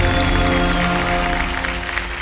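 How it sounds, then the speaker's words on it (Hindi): Studio audience on the Kaun Banega Crorepati season 14 set applauding: loud, dense clapping that swells and holds, mixed with steady musical tones underneath. "कौन बनेगा करोड़पति पे तालियां बज जाएं इनके लिए।"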